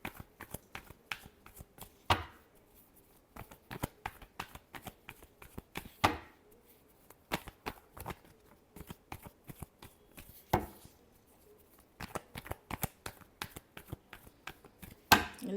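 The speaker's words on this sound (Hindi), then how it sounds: "last shuffle" Tarot cards are shuffled by hand in close, crisp bursts of rapid riffling flicks, separated by sharper slaps and brief quiet gaps, repeating over about fifteen seconds without talk.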